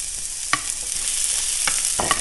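Zucchini frying in butter and ghee in a cast iron skillet: a continuous sizzle punctuated by a few sharp utensil clacks and scrapes against the pan, close up and fairly loud.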